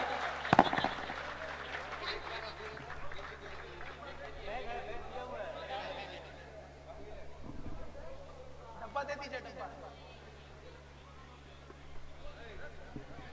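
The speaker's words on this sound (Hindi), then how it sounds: "जोरदार तालियां भाई," Applause and cheering rise at an Independence Day celebration in Shibpur, West Bengal, with a loud burst of clapping early on, then a mix of crowd chatter and scattered claps while people talk throughout.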